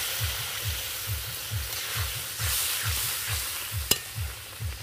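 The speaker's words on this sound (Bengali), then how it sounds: "এতে আমি আর একটু জল দেব" Masala with oil separating sizzles in a pan for a tuna fish curry as a little water is added, with a steady rhythmic stirring pattern and a brief sharp clatter near the end, no talking.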